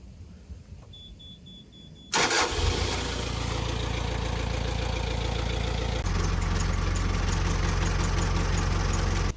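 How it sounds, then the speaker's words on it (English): A narrowboat engine cranks with a short electronic beep, then starts and settles into a loud, steady close-up diesel idle with rhythmic chugging that continues to the end. "time to try the engine."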